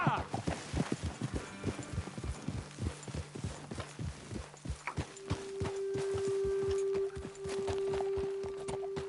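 Horse hooves clip-clopping in Red Dead Redemption II, a steady rhythmic run of close, distinct hoofbeats slowing to a walk, with a sustained tone entering midway and faint talk present.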